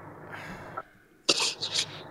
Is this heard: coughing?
yes